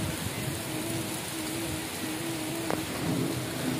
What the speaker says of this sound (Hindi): बारिश काफ़ी तेज अंधेरी के साथ हो रही है, आप देख सकते हो पानी की बूंदें कितनी तेज गिर रही हैं